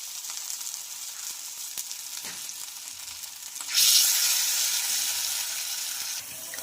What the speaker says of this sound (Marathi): अशाच पद्धतीनं आपण आता शालो फ्राय करून घेणार आहोत